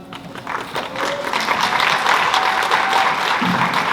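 A school spring concert audience applauds steadily, a dense, sustained wash of clapping that fills the room for the whole stretch, with a few brief whistles cutting through near the end.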